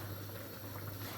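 Vegetable soup boiling in an uncovered pot gives a steady, close, continuous bubbling hiss with a low simmering rumble and no voices.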